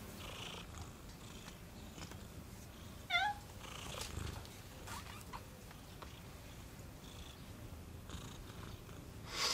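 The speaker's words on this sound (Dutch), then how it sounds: "Zo lekker gaan knorren." A cat purrs softly and continuously at close range in a quiet room, with a few faint brief clicks and rustles around it.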